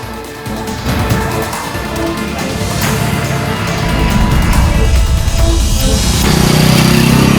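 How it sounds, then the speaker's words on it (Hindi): A motorcycle carrying two riders approaches, its buzzing engine growing steadily louder and nearer over several seconds amid broadband road noise, with no talking. "अलर्ट, एक मोटरसाइकिल आ रही है"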